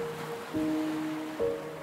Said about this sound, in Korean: 바위를 삼킬 듯 넘실대는 파도와 시원한 바람은